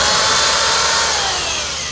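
A drill boring a blind hole into the tongue of a hardwood floor board, a loud continuous high whine with a steady tone that dips slightly in pitch near the end, close and uninterrupted by talk.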